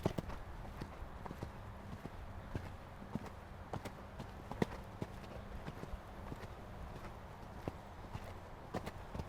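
Horse cantering in a riding arena between show-jumping fences, rhythmic hoofbeats in a steady three-beat pattern, moderately close, with a rider's voice faintly in the background.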